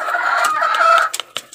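A mother hen with chicks gives a drawn-out clucking call for about a second, followed by a few short, sharp clucks, close and clear.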